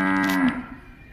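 A buffalo on a dairy farm lets out a single short, fairly loud low moo that fades into a quieter tail. Nobody speaks.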